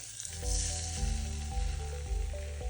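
Steady, loud sizzling of ginger, garlic and masala spices frying in a hot pan with tomato puree, with a low rumbling hum underneath and occasional faint clinks.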